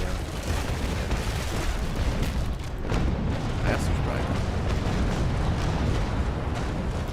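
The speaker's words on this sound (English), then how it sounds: "I got a couple cannons there, and its hull is just completely gone." Cannon fire from a ship battle in the Naval Action game, heard as heavy rumbling booms and explosive bursts inside a dense, continuous roar of battle. A voice talks over it.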